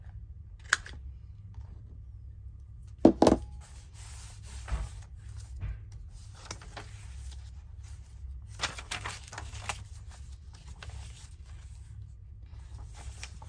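A corner punch snips the corners of paper in a craft session, giving a few sharp, isolated clicks and crunches over a quiet low hum, with small handling rustles between them.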